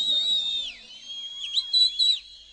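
Shrill whistles from young men in the crowd at a wedding dance party, several overlapping sharp tones, some sliding and some bursting in quick succession, fairly close.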